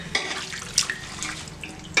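Water pours from a tumbler into a pot while making chicken biryani, a steady trickling splash with a few brighter sloshes over about two seconds, no talking.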